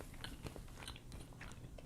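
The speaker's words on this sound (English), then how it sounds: "Bertie Bott's rotten egg jelly bean." Someone bites into a Bertie Bott's rotten egg jelly bean, with faint, close crunching and chewing and no talking.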